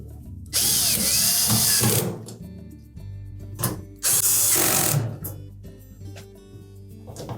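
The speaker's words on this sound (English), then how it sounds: "Now we'll put the remainder of those screws in place." A power drill drives screws into a Samsung dryer panel during an idler pulley replacement. It whirs loudly and close in two main bursts with a shorter blip between them, then ratchets and clicks as it winds down.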